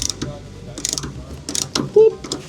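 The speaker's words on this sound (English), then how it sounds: "Ratchet this bad boy up." Ratchet wrench tightening a fastener while installing a MOLLE panel in a GWM Cannon ute, a few quick clicking bursts close up, with faint workshop background.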